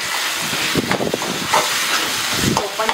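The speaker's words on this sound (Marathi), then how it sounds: "ते पण छान असं फ्राय करून घ्यायचं, कच्चा स्मेल जाईपर्यंत त्याला फ्राय करून घ्यायचं आपण।" Ginger garlic paste sizzles and hisses in hot oil as it fries with melted tomatoes for Mumbai street-style pav bhaji, a steady close crackle with faint voice sounds underneath.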